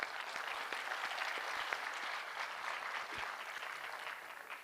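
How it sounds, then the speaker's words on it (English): An audience at a medical lecture on manual therapy claps for student performers who sang Telugu songs, a soft, even patter of many hands heard from a distance and holding steady throughout. "We will clap for them."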